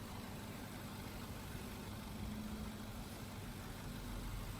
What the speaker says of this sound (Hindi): फोर 4000 सीसी V8 इंजन है ये,